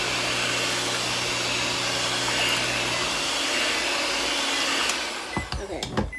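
An electric mixer whirs loudly and steadily through sweet potato pie filling, then shuts off, followed by a few soft clatters and knocks.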